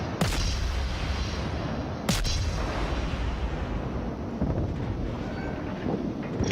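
Naval guns fire in World of Warships, two sharp booming blasts about two seconds apart that roll off into a rumbling tail over constant wind-like ocean noise, loud and close.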